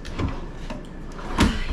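A soft-close drawer in the kitchen of a Class A diesel motorhome, with a few soft thuds and light sliding knocks close by, including a firmer bump near the end and no talk over them.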